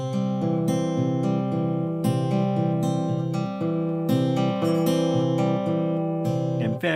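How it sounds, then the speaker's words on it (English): An acoustic guitar is fingerpicked in a steady pattern, with thumb bass notes and finger notes plucked together in pinches, ringing clearly and continuously without talk. "but equally common is to have thumb and finger notes sounding at the same time."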